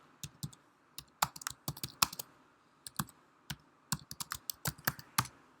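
An address being typed on a computer keyboard, with quick, uneven clacks of the keys, close and fairly quiet, in bursts with short gaps between them.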